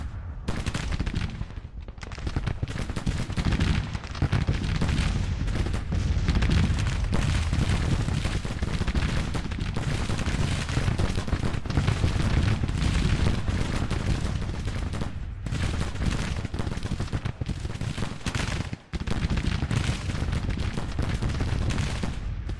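Dense, sustained volleys of massed musket and artillery fire from Civil War-era troops in a Grand Tactician battle, a loud continuous crackle and boom rolling on with brief dips, with no talk over it.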